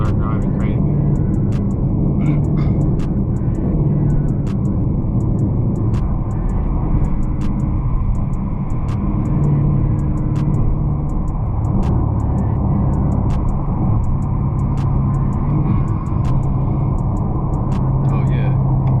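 A 2018 Dodge Charger R/T on 22-inch wheels driven hard, heard from inside as a steady, loud low engine rumble and road drone throughout, with a voice talking over it at times.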